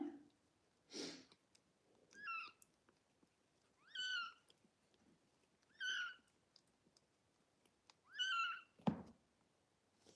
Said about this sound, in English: The sound of a kitten crying is a really good sign.